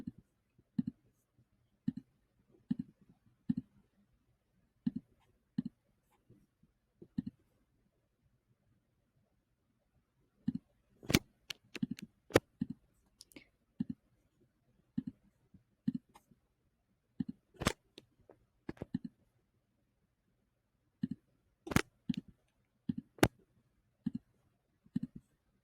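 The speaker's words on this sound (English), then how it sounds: "Then I shift and click, click, click, click, click." A computer mouse clicks repeatedly while drawing shapes, sharp close clicks arriving singly and in quick pairs or bursts, with near silence between them.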